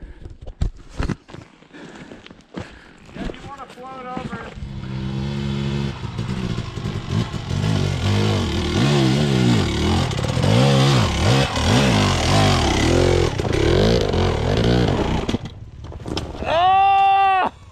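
Motorcycle engine revving hard in second gear on the Quartz Creek and Little Naches trail in Washington State, a loud, sustained roar that climbs and falls in pitch as the rider keeps on the throttle, with a final rising rev near the end.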